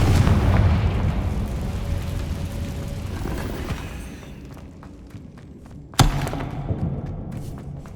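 Confringo fire spell explosions in the video game Hogwarts Legacy, a heavy booming blast that decays slowly, followed by a sharp second impact and lingering rumble.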